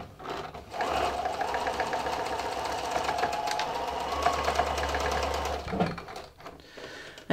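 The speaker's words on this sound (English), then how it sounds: "I'm just going to straight stitch across just to hold those" A sewing machine straight-stitches through thick fleece for a hat, a steady close mechanical whir running continuously for about five seconds with a faint rhythmic needle tick, then stopping.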